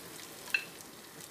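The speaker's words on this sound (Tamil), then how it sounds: "இப்போ இடித்த வெள்ளை பூண்டு வதக்கிடணும்." Crushed garlic sautés in a pressure cooker set on an infrared cooker, giving a faint, steady sizzle with a couple of small clicks and no voices.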